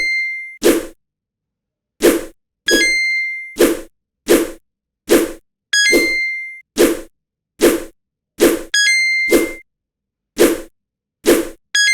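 A homemade Flappy Bird game for Windows gives out a repeated sharp clang or ding, about a dozen crisp hits spaced a second apart with bright ringing tones and no talk.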